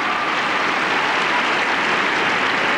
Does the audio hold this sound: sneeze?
no